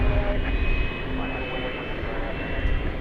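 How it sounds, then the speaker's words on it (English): UPS Boeing 767 jet airliner at DFW airport at night, a loud continuous engine roar with a steady whine, while someone talks over it. "here you have UPS flight 751. This is a 767"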